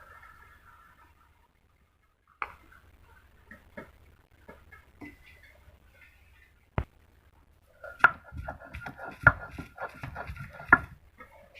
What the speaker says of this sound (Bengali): শিলপাটে আমি এগুলোকে বেটে নিচ্ছি